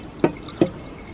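Water dripping, two distinct close plinks spaced about a third of a second apart over quiet background.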